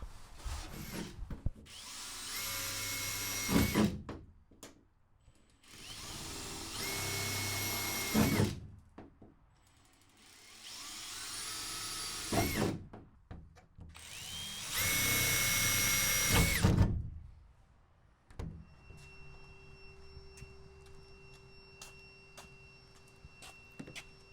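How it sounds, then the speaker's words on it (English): A power drill boring holes through the sheet-metal sliding door panel of a RAM Promaster 2500 van, with four loud sustained whining bursts separated by short pauses, close by, followed by quieter handling noise and no talking. "we're going to start drilling holes every few inches along the curves, and then at a couple places along the straight edges"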